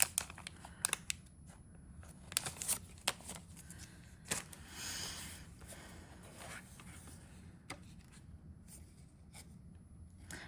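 Paper ink swatch cards are shuffled and handled up close, giving soft rustles, light taps and brief sliding scrapes in an irregular rhythm against a quiet room background.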